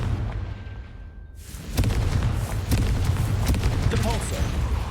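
Confringo blasting spell cast in Hogwarts Legacy, a sudden heavy boom after a quieter stretch, followed by sustained rumbling explosive noise with scattered bursts, loud and close.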